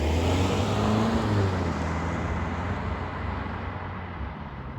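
A 2021 Mercedes-Benz E350 cruises along with a quiet, steady road and engine hum from inside the cabin, and a low drone fades slightly over the few seconds, with no talking.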